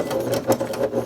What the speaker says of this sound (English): we just sewed through the layers of your fabric and the ribbon as well